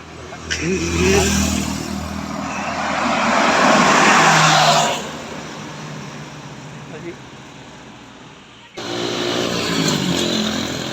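Bus engines revving hard at Tanjung Pura, Indonesia, with loud swelling roars that rise and fall across the clip amid roadside noise and people talking nearby.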